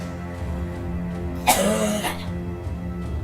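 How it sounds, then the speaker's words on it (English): A woman with asthma coughs in the background in a short harsh burst of about half a second. Steady game music plays underneath throughout. "If you can hear coughing, Emma's asthma is kicking off."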